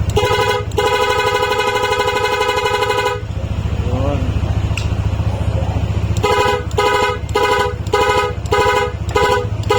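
Musical horn of a Nhay 3+ Pro unit fitted to a Yamaha NMAX scooter, playing loud sustained tonal melody bursts, pausing midway, then returning in rapid repeated toots, with a brief voice over idling engine rumble.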